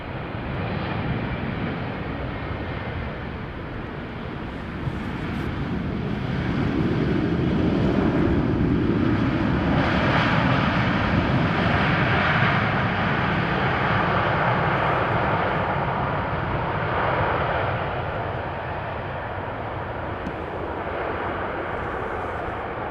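Jet airliner arriving in strong crosswind at Amsterdam Schiphol Airport after a storm, a broad roaring engine noise that swells over several seconds and slowly fades, heard from a distance against wind, with no talking.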